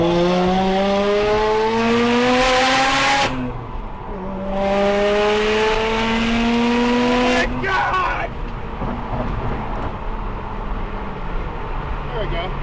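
A Mazda RX7 with a street-ported rotary engine accelerates hard from close range, its buzzing note climbing steeply through two gear changes before easing into a steadier cruise.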